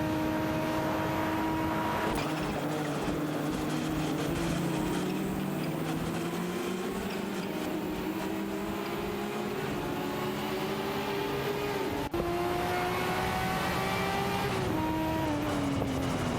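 Several race cars in an AI racing video game, including a Nissan Skyline GT-R R32 and a Ferrari 288 GTO, whine continuously as engine pitches climb and drop through gear changes, loud and layered with no talking.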